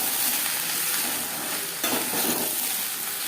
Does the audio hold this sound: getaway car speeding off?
no